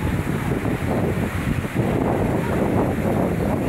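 Strong wind and big waves during the first surge of the amihan monsoon, a loud continuous roar of gusts and surf buffeting the microphone.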